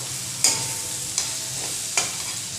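Steamed vegetables for upma are stirred in a pan, with a soft sizzle throughout and three sharp scraping strokes of a spoon spaced about a second apart.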